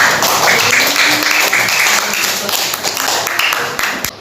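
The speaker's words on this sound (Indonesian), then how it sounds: "Beri tepuk tangan yang mulia." Classroom applause from schoolchildren praising a pupil's Quran recitation, loud and continuous clapping from many hands, holding steady before tapering slightly near the end.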